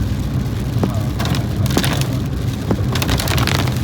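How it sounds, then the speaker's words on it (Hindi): Heavy rain drums steadily on a Toyota Hyryder car as it drives, a dense roar with a few sharper drops and knocks scattered through it, heard from inside the car. "मैंने इतनी तेज़ बारिश अभी तक नहीं देखी हाल फिलहाल के दिनों में"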